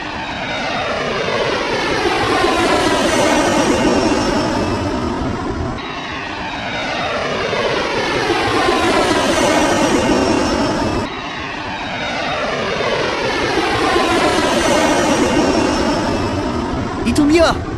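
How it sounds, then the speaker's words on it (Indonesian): A fighter jet squadron roars through a Sakura School Simulator scene, loud sustained engine noise sweeping past in three long passes, each rising and falling with a swooshing pitch change. "Kita harus pakai skuadron jet tempur."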